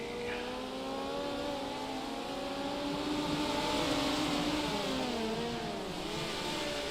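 Midget race cars lapping a dirt oval at Limaland in a sim racing game, several engines droning and rising in pitch together, steady and moderately loud with no talking.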